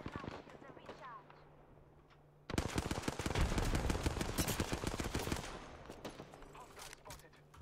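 Rapid automatic gunfire from the video game The Division 2 bursts in suddenly, a dense loud rattle lasting about three seconds before tapering, with a voice talking beforehand and a low game hum underneath.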